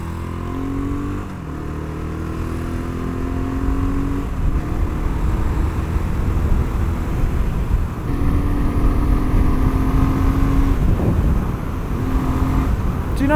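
A BSA Goldstar single-cylinder motorcycle cruising at 60 mph around 3,800 RPM in fifth gear on country roads, with a steady loud engine drone and wind rumble throughout while the rider talks.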